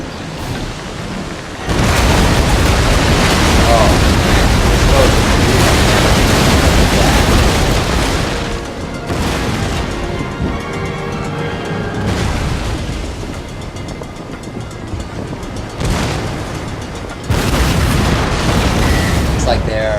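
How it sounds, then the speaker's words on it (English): Ship cannon broadsides roar in a Napoleon: Total War naval battle between Spanish and French sailing ships, with dense, sustained booming and rumbling, loud and close, and musket fire from men on deck, under a voice commenting. "just send so many cannonballs at the enemy that something's going to do something"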